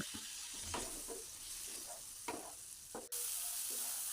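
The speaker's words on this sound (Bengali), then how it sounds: "অল্প অল্প করে জল দিয়ে মশলাটা ভালো করে কষিয়ে নিচ্ছি" Potatoes and spice paste sizzle and fry in a pan for a river crab curry, with steady hiss and intermittent stirring scrapes close by, no voices.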